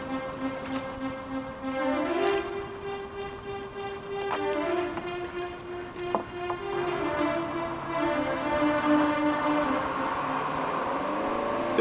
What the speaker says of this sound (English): There's a rush of adrenaline as the engines rev up, and the boat pulls away from the dock.